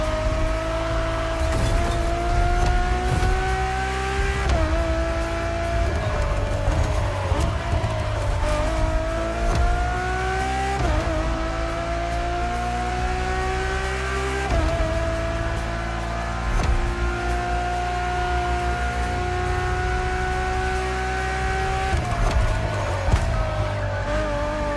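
A Ferrari road-legal hypercar styled as a road-going Formula One car, bodied by Pininfarina, screams through its gears in a racing game, a loud high-revving engine whine rising and dropping with each shift, tires squealing at moments.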